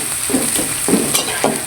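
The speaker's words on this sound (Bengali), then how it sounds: "পেঁয়াজগুলো ভেজে নিব।" Onions fry in a pan for a koi fish dopiaza, a continuous close sizzle with a few scraping stirs at a steady pace.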